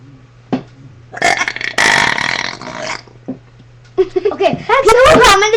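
Several loud, drawn-out burps from a burping contest, separated by short pauses. The last one is long, croaky and voiced, and people laugh and talk around them.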